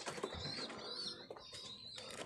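Pigeon cooing close by, soft low warbling calls with faint chirps and rustling around a racing-pigeon loft.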